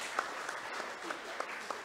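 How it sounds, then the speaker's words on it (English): An audience at an afternoon lecture session on ESG for the built environment applauds its speakers, with steady, moderate clapping that sounds a little distant and spreads evenly through the room, a few louder claps rising above the rest. "Give them a round of applause for our speakers."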